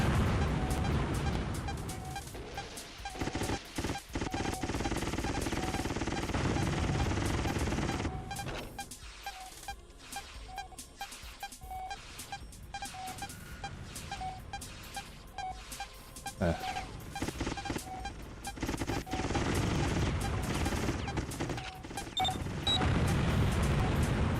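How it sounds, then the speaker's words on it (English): Bombs in the video game G-Police go off as repeated loud booms and crackling bursts, with a dense barrage in the middle and heavy rumbling blasts at both ends. "Those bombs certainly make big enough explosions."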